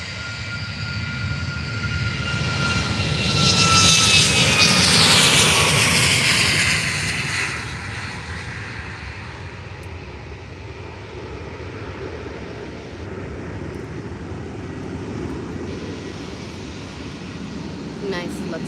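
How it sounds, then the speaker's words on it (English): A Luxair Boeing 737 MAX bound for Luxembourg takes off from Faro Airport, its engines roaring loudly with a rising whine that peaks early then recedes into a distant rumble, while a voice talks over it. "Nice Luxair takeoff."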